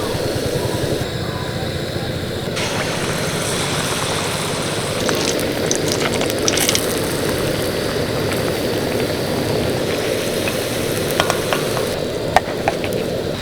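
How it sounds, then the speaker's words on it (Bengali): Palm fruit malpua fry in oil over low-medium heat, giving a steady, even sizzle and bubbling that runs throughout, with a few faint clinks on top. "তাই কিন্তু একদম লো টু মিডিয়াম আঁচেই আমি এগুলোকে ভেজে নিচ্ছি"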